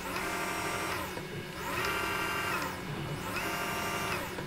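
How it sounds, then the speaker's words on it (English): A plastic 3D printer works with a steady whirring motor hum, rising and falling in smooth sweeps as the print head moves back and forth, close and continuous with no talk. "This is a 3D printer that can do three-dimensional printing, plastic printing."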